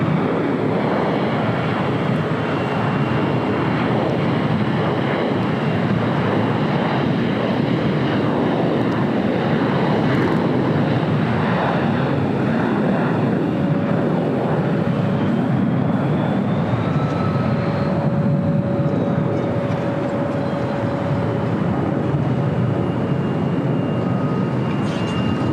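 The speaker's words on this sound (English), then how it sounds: "Takeoff here on the south side at 25 right is Delta Airlines flight 811 heading to Miami, Florida, 737-900 ER." A Delta Airlines Boeing 737-900ER takes off from runway 25 right at LAX, a sustained loud engine roar with rising whining tones as it climbs away.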